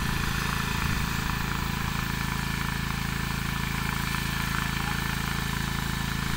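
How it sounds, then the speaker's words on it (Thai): An agricultural crop-spraying drone for rice paddies, carrying a 20-liter chemical tank, hums loudly and steadily at close range with a constant buzzing rotor drone. "เรามาดูโดรนใกล้ๆครับผม"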